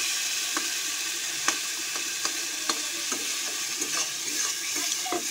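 Hot oil with spices sizzles in a steady, close hiss as a utensil stirs and taps the pan in a loose, repeated rhythm, and nobody speaks.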